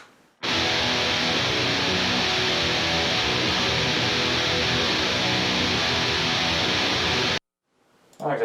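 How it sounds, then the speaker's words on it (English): A full suite of layered, distorted rhythm electric guitars from a video game cover forms a dense, steady wall of noise that plays loud and unbroken for about seven seconds, then cuts off abruptly. "with the entire suite of rhythm guitars, you get a sound that's pretty much a wall of noise and sounds like this"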